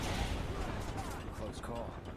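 Gunfire rattles in the video game Final Fantasy VII, dense repeated shots and booming blasts layered with game sound effects and voices throughout.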